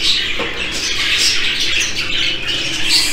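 Jumbo show budgerigars squawking and chattering continuously in an aviary, a dense, busy flock of harsh high calls close to the microphone.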